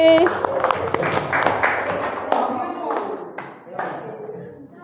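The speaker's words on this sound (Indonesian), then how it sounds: "beri tepuk tangan untuk kelompoknya" Classroom applause for a student group, a short spell of loose, uneven clapping with distinct individual claps and thumps, fairly close, tapering off, with voices talking over it.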